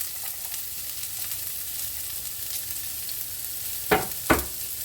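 Oil sizzles in a pan while an onion fries, a steady quiet hiss. Two sharp louder spits near the end are the onion hitting the hot oil.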